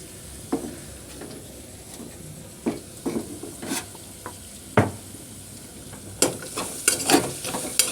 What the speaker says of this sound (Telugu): మనం ఫ్రెష్గా దంచి ఉంచుకున్న అల్లం వెల్లుల్లి పేస్ట్ దాంట్లో వేసేయండి